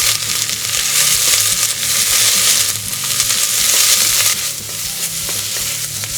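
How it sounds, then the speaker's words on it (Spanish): Sliced white part of leek frying in a pan for vegan ramen, a loud, close sizzle broken by bursts of stirring and scraping, with no voices. "La parte blanca del puerro. Y lo dejaremos que se haga hasta que se tueste bien"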